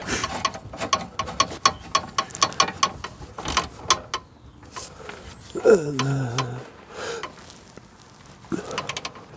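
A ratchet tightens the rear control arm bolts on a Smart ForTwo 450 in a rapid run of sharp, close mechanical clicks, then a voice speaks briefly over it before a few more scattered clicks.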